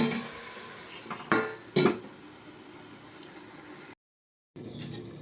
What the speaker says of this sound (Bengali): এইবারে আমি ঢাকা দিয়ে দিচ্ছি কিছুক্ষণের জন্য